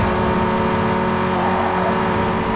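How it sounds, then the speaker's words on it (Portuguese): Car engine in Need for Speed Underground 2, revving steadily while sliding through a drift in a street race, loud and continuous with sustained harmonic whine and no talk. "Fazer um drift aqui para poder."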